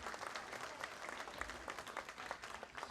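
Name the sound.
audience applause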